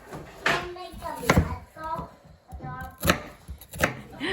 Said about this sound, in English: I'm going to continue cutting my onions